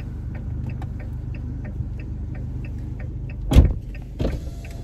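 A 2017 Fiat 500 Abarth in a parking garage with its windows down, a soft steady engine hum under faint regular ticking, then a sharp loud burst followed by a second, quieter swell near the end.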